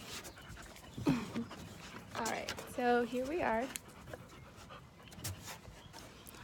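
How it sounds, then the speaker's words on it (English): Pet dogs pant and give a short whimpering, whining call in a home at night, close by, while a person speaks briefly over them. "Obviously my dogs wanted to be in this video, and they didn't take no for an answer."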